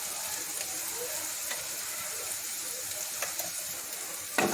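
Spice masala with turmeric and chili powder frying in a pan for black pomfret tel jhal, giving a steady close sizzle broken by a few sharp scraping strokes of a spatula.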